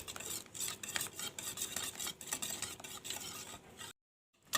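Hand whisk beating sugar and eggs together in a bowl for a mini oil-fried cake batter, a rapid run of scraping, tapping strokes close up that stops abruptly near the end.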